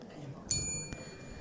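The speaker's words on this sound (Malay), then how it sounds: "Loceng akan dibunyikan 1 kali sebagai tanda 5 minit kelima telah tamat." A single bell strike rings out as a timing signal during a research presentation session in a conference room, a sharp bright onset with a ringing tone that slowly fades, over quiet room noise.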